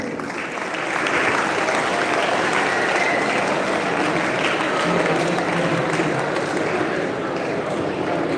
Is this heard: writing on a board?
no